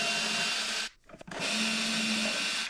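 A power driver backs out long Phillips screws, whirring loud and steady up close, cutting off for about half a second, then resuming with a steadier drone.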